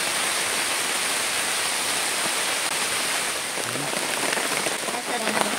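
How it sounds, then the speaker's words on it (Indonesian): Heavy rain pours down on a group campsite, a dense, steady hiss of drops drumming on surfaces that holds unbroken and loud for the whole stretch. "Ini hujan."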